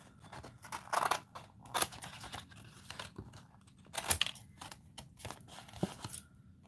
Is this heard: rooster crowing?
no